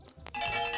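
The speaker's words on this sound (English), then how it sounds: "you get a jolly jangle of the cheer bell" A cheer bell jangled once, a bright ringing shake that starts abruptly after a short rustle and sustains evenly to the end, close and loud.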